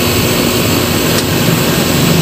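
A York air conditioner compressor unit runs with a loud, constant broadband roar and steady hum, close and unchanging throughout, with no talking.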